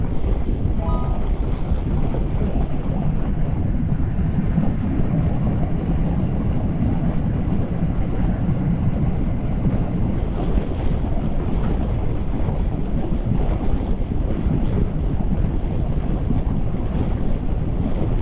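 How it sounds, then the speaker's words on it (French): Steady, loud wind roar buffeting the microphone while riding a 2025 Yamaha Tracer 7 motorcycle, a constant low rushing noise with no talking. "Là je prends du vent au-dessus de la tête."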